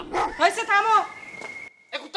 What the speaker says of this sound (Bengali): গ্রামের মধ্যে কুত্তা থাকবে না তো কি?